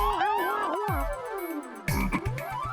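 A frog croaks loudly and close by, first with warbling, pitch-bending calls, then a short series of deep, evenly spaced croaks, with no voices alongside.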